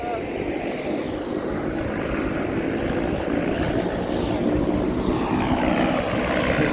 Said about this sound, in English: This seaplane's about to take off.